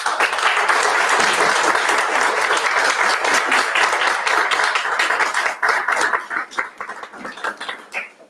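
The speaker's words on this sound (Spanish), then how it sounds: "Con un aplauso." A conference audience in Puebla breaks into loud, dense applause that holds steady for several seconds before thinning into scattered, separate claps near the end.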